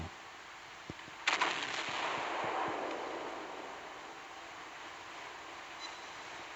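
Naval gunfire from the battleship König in the video game Naval Creed, a faint distant boom followed by a washing rumble and a few scattered thuds.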